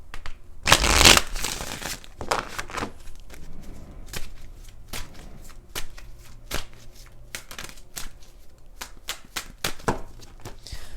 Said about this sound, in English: Let's do 2 major shuffles.